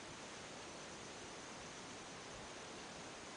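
A small river at the bottom of a valley produces a faint, steady broadband rush of running water, continuous and distant, with no voices.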